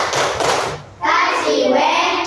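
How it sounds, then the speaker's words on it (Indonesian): A classroom of children doing the rhythmic 'tepuk wow' clapping routine, a dense burst of hand claps with a brief pause, then more clapping mixed with children's voices. "Ayo kasih dulu tepuk wow sama kakak Caca."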